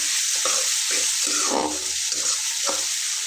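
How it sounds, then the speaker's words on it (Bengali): Onions frying in a pan for a Bengali fish curry with green chillies, with a steady close sizzle as a utensil scrapes and stirs them in repeated short strokes throughout. "পেঁয়াজটা ঠিক এমনভাবে ভেজে নিতে হবে যেভাবে আমরা মাছের দো পেঁয়াজে রান্না করি ঠিক সেরকম।"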